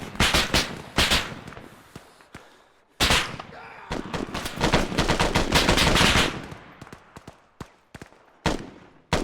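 Gunfire in the Arma 3 military simulation game: rapid machine-gun bursts and single rifle shots crack in dense volleys, then thin out into scattered isolated shots, loud and close.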